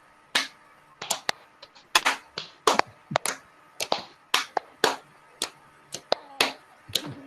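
Group hand claps in a counted rhythm during a training simulation, crisp separate slaps arriving in uneven clusters of one to three, close and clear with silence between them.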